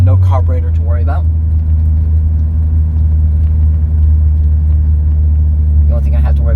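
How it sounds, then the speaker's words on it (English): A 1990 Eagle Premier with a 3-liter overhead-cam, port-injected V6 drones steadily from inside the cabin while driving, a constant low rumble throughout, with someone talking briefly at the start and end. "It is a 3-liter overhead cam V6 with port fuel injection, so no carburetor to worry about."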